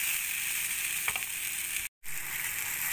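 Kasuri methi frying in ghee for shahi paneer, a dense continuous sizzle with a faint clink of stirring, cut off by a brief silent gap before resuming.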